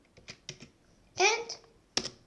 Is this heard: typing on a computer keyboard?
yes